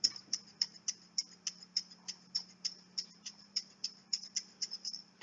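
Homemade recycled shaker jar filled with black rice, shaken in a steady even rhythm of about twenty crisp rattling pulses, close and fairly quiet, with a faint low hum beneath and no talking.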